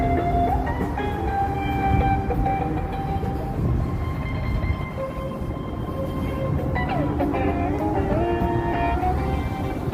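A Chicago elevated L train rumbles past overhead in the city streets, a loud continuous roar with metallic wheel squeals and shifting tones throughout.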